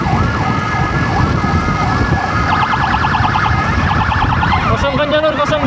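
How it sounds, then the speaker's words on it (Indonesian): Emergency ambulance siren wailing on a road during a Lebaran holiday patient transfer from a clinic to a regional hospital, rising and falling continuously and loud, with a second warbling tone joining midway over steady traffic noise. "Kosongkan jalur. Ambulan emergensi."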